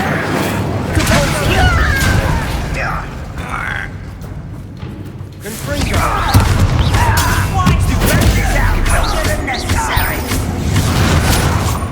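The Incendio fire spell bursts out during a fight in Hogwarts Legacy, a forceful rushing blast amid booms, crashes and grunts. It drops away briefly midway before the loud combat noise returns.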